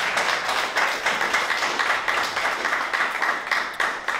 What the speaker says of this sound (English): Another round of applause for Roger Boucher.